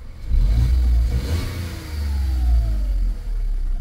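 A 2008 VW Polo 4 1.2 petrol engine with its engine warning light on revs up close by, holding a steady, loud drone with a slight fall and rise in pitch.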